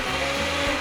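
An electric blender runs steadily, whirring as it purees small chopped pieces of ingredients with a little water for a home-cooked dish, loud and close with no talking.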